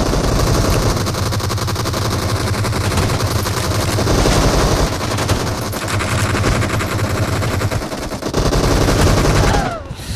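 Loud, dense gunfire from a gun in a battle royale video game, with rapid automatic bursts running almost without a break for about ten seconds before cutting off sharply near the end.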